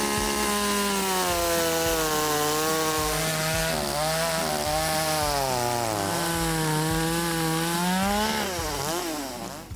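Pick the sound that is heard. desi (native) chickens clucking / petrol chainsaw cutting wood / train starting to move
petrol chainsaw cutting wood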